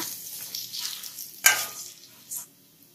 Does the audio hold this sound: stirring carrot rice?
yes